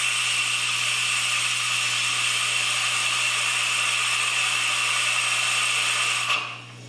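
A Lu Max LX1314 oil and fluid extractor runs on a hooked-up air compressor, giving a steady loud pneumatic hiss and hum with a constant low drone that drops off abruptly near the end.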